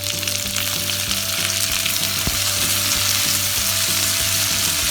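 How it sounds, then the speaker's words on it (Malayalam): Half an onion sliced lengthwise frying in oil on high flame for dragon chicken, producing a loud, dense, unbroken sizzle close up, with a faint steady hum underneath and one brief knock midway. "സവാള നീളത്തിൽ അരിഞ്ഞിട്ട് കൊടുക്കാം."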